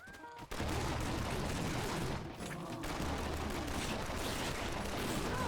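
Rapid automatic gunfire in the farming video game Atomicrops, a dense, sustained barrage of shots after a brief lull, loud and continuous for several seconds with a short dip midway.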